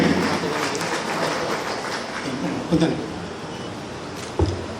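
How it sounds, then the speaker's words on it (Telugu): Audience clapping at a public meeting on a farmers' land law, a steady spread of applause at moderate volume, fading slightly, with a couple of louder knocks and faint voices beneath. "ప్లీజ్ దయచేసి చప్పట్లు పెట్టండి"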